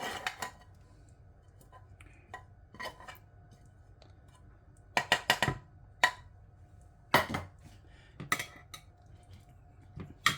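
Spoon scraping and clattering in a pan while curry mixture is stirred into rice for a budget fish biryani, giving scattered metallic clinks and taps in irregular clusters, close and fairly quiet, with no talking.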